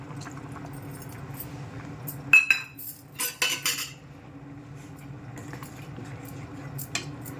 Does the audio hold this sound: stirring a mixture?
yes